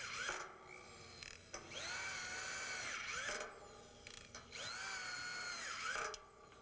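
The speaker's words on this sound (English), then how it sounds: "put the remaining frame screws into place until each has 4 screws" A power drill drives frame screws into a metal building frame in two long whining bursts, each rising and holding steady, with short clicks and handling noise between; close and alone, no talking.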